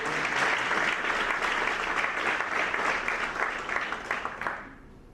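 A church congregation applauds with dense, sustained clapping that fills the room, then thins and fades out near the end.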